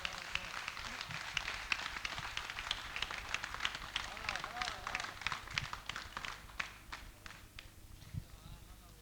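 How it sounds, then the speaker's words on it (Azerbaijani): Guests at an Azerbaijani wedding clap for the groom in a quick, steady, rhythmic patter, fairly faint and mixed with voices. "Alqışlayırıq bəyi"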